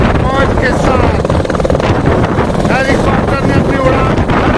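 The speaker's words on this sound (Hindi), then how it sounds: "हेलीकॉप्टर ने अपनी उड़ान भर दी है।" A helicopter lifts off at Kedarnath, its loud, close rotor thump and engine roar steady throughout with gusty wind noise.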